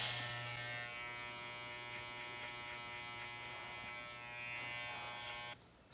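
Wahl hair clippers fitted with a number 1 attachment guide comb, lever closed, hum steadily and close by while cutting a fade. The buzz is constant and stops abruptly near the end.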